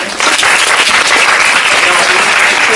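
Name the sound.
audience applause at end of a meditation lecture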